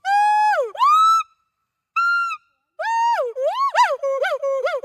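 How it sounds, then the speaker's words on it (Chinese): A gibbon calls with clear, pure whooping notes, first long sliding hoots with pauses, then a quickening series of rising and falling whoops, loud and alone. "这是长臂猿，它的叫声是这样的。"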